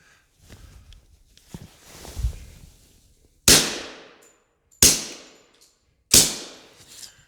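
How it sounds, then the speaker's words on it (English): A suppressed SIG .45 pistol fires three sharp, evenly spaced shots, each a loud crack with a short decaying tail, after a few quiet handling sounds. "moving along in the suppressor world, here's a SIG 45"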